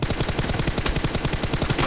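Rapid automatic gunfire in a PUBG Mobile team deathmatch, a fast, steady stream of evenly spaced shots, loud and close, continuing without pause.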